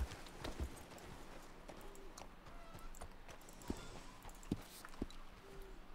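Horse hooves walking in the video game Red Dead Redemption, a faint, steady clip-clop under constant background ambience, with a few sharper hoof strikes toward the end.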